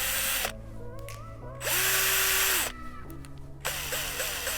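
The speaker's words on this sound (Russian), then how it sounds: "Наконец-то в нашем арсенале появился аккумуляторный шуруповерт от Works." A Works cordless drill-driver whirs in bursts, starting and stopping several times with pitch sweeping up and down, loud and close with no talk.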